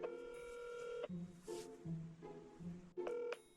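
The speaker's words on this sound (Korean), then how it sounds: "너가 예를 들어서 록스한테 전화를 걸어" A telephone being dialed: a sequence of short DTMF keypad tones, several clear beeps spaced unevenly over a few seconds, faint and close, with a slight room hiss between presses and no speech.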